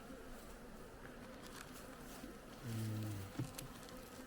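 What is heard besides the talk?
honeybees buzzing at open hive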